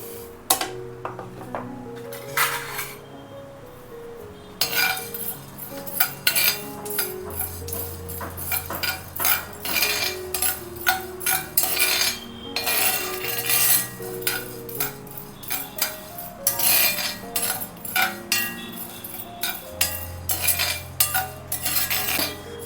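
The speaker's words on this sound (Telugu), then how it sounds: "సో ఇవన్నీ ఇప్పుడు మనము డ్రై రోస్ట్ అయితే చేసుకుందామండి" Whole spices including coriander seeds, cumin, fennel, peppercorns, cinnamon and cloves are dry roasted in a pan, with a spoon constantly scraping and clinking against the metal in busy, irregular rattling strokes and occasional low hum.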